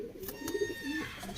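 A pigeon coos softly in short, low, rolling phrases, close by and fairly faint, with a few brief bursts of rustling around the calls.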